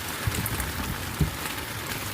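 Heavy rain pours in a dense, continuous hiss during a fishing outing, steady and loud, with a couple of dull thuds.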